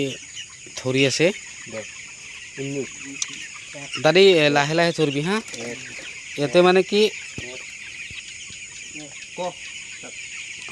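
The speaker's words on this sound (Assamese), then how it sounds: "এয়া মুৰ্গী" Chickens on a poultry farm cluck and squawk close by in bursts, with a few drawn-out agitated calls, while people talk nearby between and over the birds.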